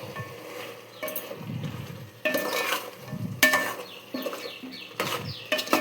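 Biryani ingredients with fresh mint are stirred in a pot, giving quiet, intermittent scraping and clinking of a spoon against metal at close range.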